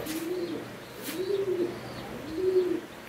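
Pigeons cooing close by, three soft, rounded low coos rising and falling at an even pace, with faint chirps in the background.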